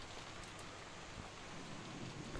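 Wind and rain from the Umineko visual novel form a steady, low, even wash of rainfall noise, faint and continuous with no voices.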